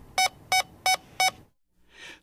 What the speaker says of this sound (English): Three or more audible beeps mean that the batteries are in very good condition.